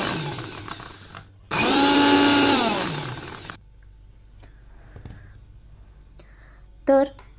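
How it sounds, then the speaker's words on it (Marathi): A kitchen mixer grinder whirs loudly for about two seconds, grinding flour mixed with gram flour (besan) for ghevar, then cuts off into a quiet room with a few faint clinks. "बेसन घालून झाल्यानंतर सेम पद्धतीने आपण याला 30 सेकंदासाठी आणखीन एकदा मिक्सरला"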